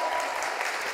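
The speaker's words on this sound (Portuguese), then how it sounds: "Aplauda mais forte aí, meu povo." Church congregation applauding during a service celebrating a leadership school class, a steady dense wash of many hands clapping with no voices on top.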